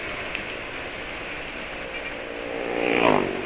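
A car engine runs after its oil has been topped up with cooking oil, giving a steady, smooth idle hum that swells briefly near the end, with no talk.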